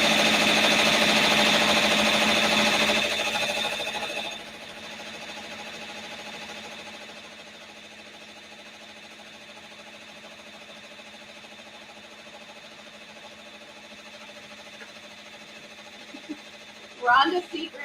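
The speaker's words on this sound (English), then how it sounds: "And it's going to stitch out the design." A Brother PR680W embroidery machine stitching out a design, running with a steady, fast mechanical whir that is loud at first, then drops to a quieter hum, with a few clicks near the end.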